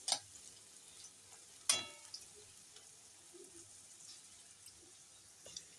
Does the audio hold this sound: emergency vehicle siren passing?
no